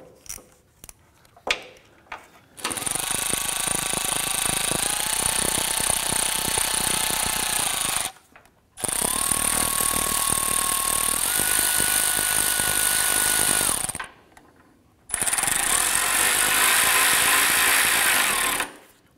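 Power tool driving hose clamps tight on a 2009-2015 Honda Pilot radiator and cooler line, three long loud bursts of whirring and ratcheting separated by short pauses, close up with no talking.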